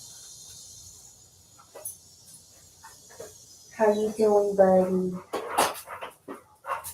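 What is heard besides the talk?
pet dog being let in, barking and whimpering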